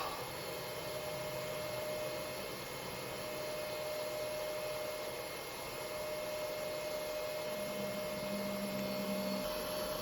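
An Aruba S2500 network switch after reboot gives a steady loud fan roar with a constant high whine and broadband hiss, unchanging throughout, with a faint low hum joining near the end.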